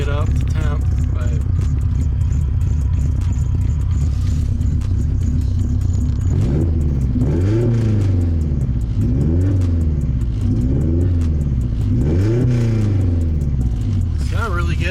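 A car engine idles while warming up, a steady rumbling drone with repeated swelling revs, while someone talks over it nearby.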